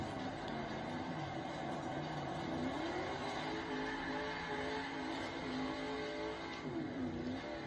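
Car engine in Forza Horizon 4 revs and drones continuously, pitch rising and falling with acceleration, a loud steady motor sound throughout.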